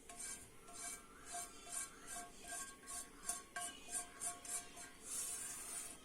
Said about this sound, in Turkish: Şimdi bu salçalı yağ ziyan etmemek adına spatula ile güzelce sıyıracağım.